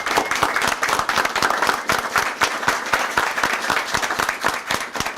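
Audience applause fills a community event where a city police department donates sports equipment: dense, continuous clapping from a crowd, close and lively, sustained for several seconds without speech.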